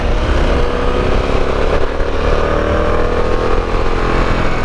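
A Harley-Davidson Pan America adventure motorcycle ridden off-road on dirt, its engine a loud, steady roar with wind rush and rumble throughout, close and continuous with no talking.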